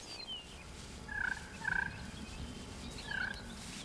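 Faint, short turkey calls, three soft trilling purrs spaced apart, over a steady low background hum.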